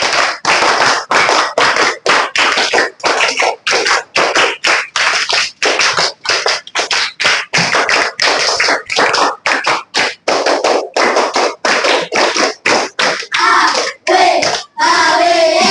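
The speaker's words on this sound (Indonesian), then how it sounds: "5 kali tepuk tangan." Children clap their hands in a classroom activity, a long run of sharp, close, evenly spaced claps that stay loud and steady, with no voices among them.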